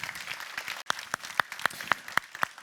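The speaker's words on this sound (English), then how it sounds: "An applause for you." Applause at an air mobility conference, starting as a soft patter and then settling into a loud, regular rhythm of distinct, evenly spaced claps.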